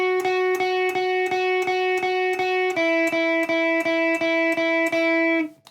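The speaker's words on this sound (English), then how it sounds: "I added a little bit of distortion and reverb in the demo" An electric guitar strums steady, evenly spaced chords of a song with distortion and reverb, shifting to a new chord halfway through before the ringing stops abruptly.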